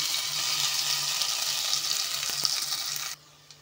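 Spices and coconut frying in a pan for Kerala-style coconut rice, a steady bright sizzle with a few light stirring knocks, then the sound cuts off abruptly near the end.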